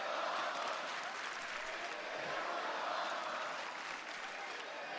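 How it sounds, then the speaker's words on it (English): A wrestling crowd cheers and roars during a SmackDown broadcast the week after WrestleMania 41, a dense, steady wall of arena noise that holds loud and unbroken for the whole stretch, with applause mixed into the din. "Listen to this crowd."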